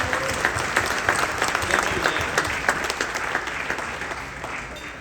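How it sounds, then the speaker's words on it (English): Crowd at a chamber of commerce holiday gala and awards night in Tipp City breaks into loud, full applause, many hands clapping densely and steadily before tapering slightly at the end. "Round of applause for these people."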